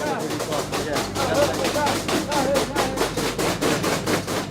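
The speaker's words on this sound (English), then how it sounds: "Just the sound of people banging their pots and pans, banging together whatever they've got at hand, just to make a noise." A crowd in a market bangs pots, pans and whatever else is at hand, a dense, continuous clatter of rapid metallic strikes that stays loud and busy throughout, with voices mixed into the din.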